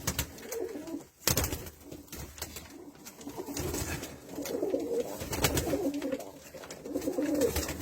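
Ankara çakmaklı pigeons coo inside a coop, soft repeated throaty calls rising and falling at close range, with a few sharp knocks and flutters among them.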